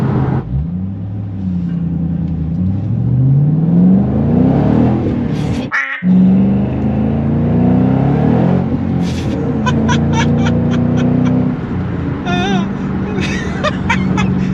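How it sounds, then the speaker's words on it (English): A 2011 Ford Mustang Shelby GT500 engine revs hard in loud, rising and falling sweeps while the tires spin, with a sharp burst midway through. Voices can be heard faintly beneath the engine noise. "It just blows the tires off like nothing."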